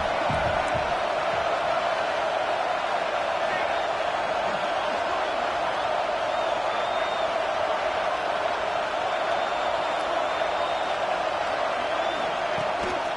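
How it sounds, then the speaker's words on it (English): Stadium crowd roar from the video game NCAA 26 football, a dense, sustained wall of cheering and noise at steady loudness, with commentary voices talking over it. "wow, listen to this crowd noise. This stadium is vibrating."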